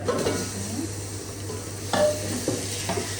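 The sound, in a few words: meat frying in a pan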